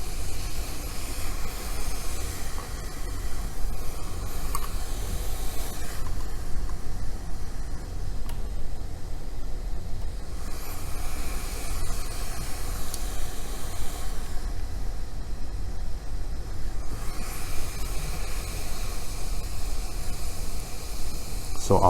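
A hot air rework station with its smallest nozzle blows onto an iPhone 6S logic board to warm the power IC, giving a steady, continuous airflow hiss that stays even throughout.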